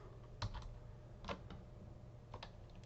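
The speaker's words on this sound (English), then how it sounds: "So if I hold Control, Function on my keyboard, and I hit page down" Several keys on a computer keyboard are pressed in a quiet room, a few separate soft clicks spaced out over a faint background hiss.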